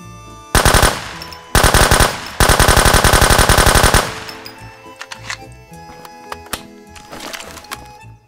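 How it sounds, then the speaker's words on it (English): Automatic gunfire in the game Road to Vostok, three loud rapid bursts of close shots separated by short pauses, followed by quieter clicks and mechanical handling sounds. "Gunplay feels pretty good."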